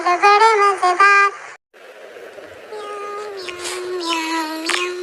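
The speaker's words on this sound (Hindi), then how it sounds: "म्याऊ म्याऊ म्याऊ बिल्ली करती म्याऊ म्याऊ" A cartoon cat meowing in a children's song: several high, drawn-out meows, loud and close, followed by a sung, music-backed stretch of meow-like calls.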